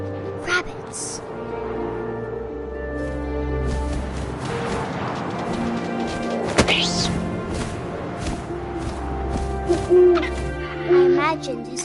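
An owl hoots in the video game What Remains of Edith Finch, with soft calls late in the passage over a steady wind-like ambient bed and occasional dull thumps.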